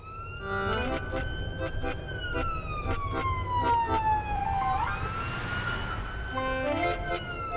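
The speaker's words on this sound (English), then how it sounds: "Should be able to turn the sirens down at this time of the morning, shouldn't you?" An ambulance siren wails in repeated rising and falling sweeps, loud and close, over steady road and engine rumble in the early morning.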